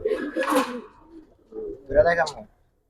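Army breed pigeon cooing close by in a loft, two short throaty coo phrases separated by a brief pause.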